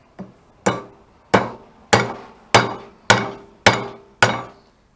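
Seven sharp metallic hammer blows on a universal joint cap of a 1978 Toyota pickup with a 20R engine strike at a steady, even pace, each ringing briefly before the next, close and loud with no talking.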